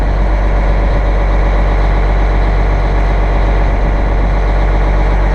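A CAT 966H wheel loader's diesel engine runs loud and close, a continuous heavy low rumble that holds steady throughout as the machine drives off, with no voices over it.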